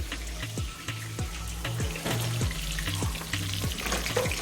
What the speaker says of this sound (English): So right now we're just waiting for the fish to fry.